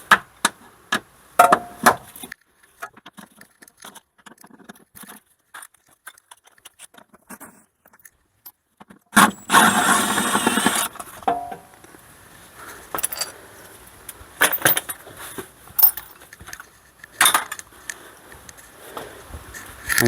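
An impact gun works loose the 16mm strut mount bolts on an Audi during a suspension install, firing one dense rattling burst of about two seconds mid-clip, with scattered tool clanks and handling knocks before and after.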